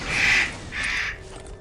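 A pet Eclectus parrot lets out two harsh, crow-like screeches one after the other, loud and rasping, from somewhere in the background of a room.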